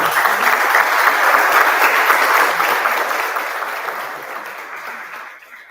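Audience applause closing a sociology masterclass, a broad steady roar of many hands that holds loud and then gradually tapers off toward the end.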